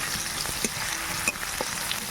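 Chopped onion with ginger-garlic paste and a chilli sizzles steadily in a pan for a Bengali fish curry, with a few soft scrapes of stirring over the constant close frying hiss and no talking.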